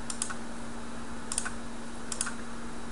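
Computer mouse clicks in software, three small pairs of sharp clicks spaced about a second apart, close but faint over a steady electrical hum.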